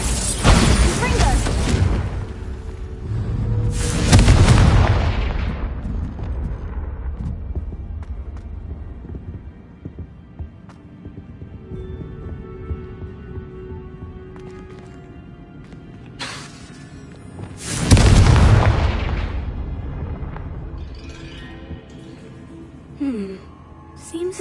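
Blasting spells go off in Hogwarts Legacy as two loud, broad explosions some seconds apart, each decaying over a few seconds, with quieter game sounds and a faint voice between them.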